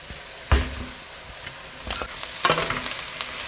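Chunks of bread stirred into melted butter in a pot, a soft continuous sizzle broken by a few distinct scraping stir strokes close by, with no voices.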